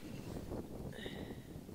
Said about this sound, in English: And this is the weather. And it's still windy as heck.